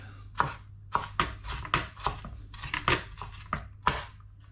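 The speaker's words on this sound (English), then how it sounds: "I want to use my mezzaluna knife just to rock back and forth and chop it down" Mezzaluna knife rocking back and forth through fresh ginger on a board, giving about a dozen crisp, close chopping knocks in an uneven rhythm, with no voices.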